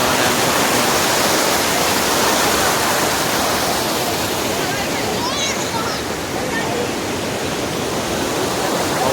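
Water pours steadily at Harkul Dam in Konkan, a loud, unbroken rushing roar that fills the whole stretch with no pauses.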